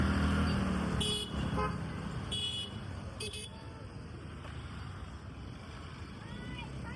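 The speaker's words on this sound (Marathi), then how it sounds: "माणगाव मध्ये अजून पण ट्रॅफिक आहे." Road traffic in Mangaon, a continuous rumble of passing vehicles with a few short car horn toots early on and voices audible underneath.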